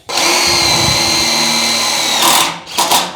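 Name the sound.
screw driven in with a power drill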